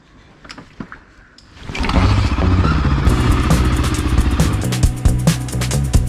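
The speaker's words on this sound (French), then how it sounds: "On commence tous les jours par un petit échauffement, plus ou moins long, 5-6 coups de kick pour se réveiller." Motorcycle kick-started for a morning warm-up on a mountain tour of Corsica: a few clattering kicks and mechanical knocks, then the engine catches and settles into a loud, steady, throbbing idle close by.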